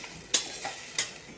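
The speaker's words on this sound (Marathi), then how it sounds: "याला कंटिन्यू मिक्स करत राहायचं बरं का, सारखं मिक्स करत राहायचं आहे" A spoon scrapes through a yogurt masala gravy with brinjal in a pan, three distinct strokes spaced about half a second apart over a low sizzle, close and moderately loud with no voices.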